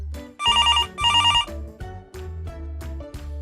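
A telephone bell rings in two bright, quick bursts over a bouncy low-pitched musical backing, loud and close, with no voices.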